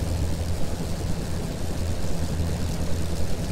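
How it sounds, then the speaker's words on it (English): Airship engines running at full power in the video game Worlds Adrift, a steady, loud low-pitched drone with a constant throbbing hum throughout, no voices over it. "when you hear that noise, that means your engines are at full power"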